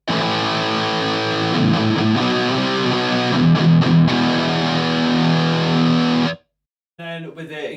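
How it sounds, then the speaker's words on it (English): A distorted electric guitar plays through a Blackstar ID:100 amp with its valve power section switched off, sustained chords and riffs ringing loud and steady before cutting to silence, then a short burst returns. "So currently I have the amp without the true valve power section on,"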